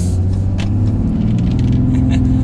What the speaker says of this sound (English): let's go ahead and just give it a little bit of gas here